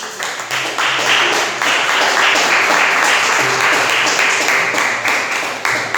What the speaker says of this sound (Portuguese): desocupa as tuas mãos e aplauda os céus bem forte.